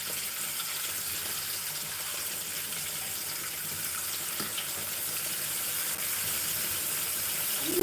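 Fish dusted in flour frying in a small, very hot pot of oil over a fire during traditional Namibian cooking, a steady loud hiss and crackle that holds evenly throughout and swells slightly toward the end.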